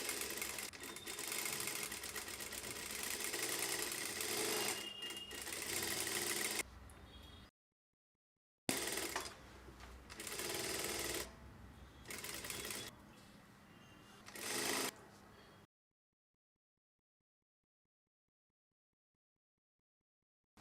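A domestic sewing machine stitches a blouse lining to the main fabric of a boat-neck princess-seam blouse, a steady rapid mechanical whirring in several runs separated by short stops, then silence.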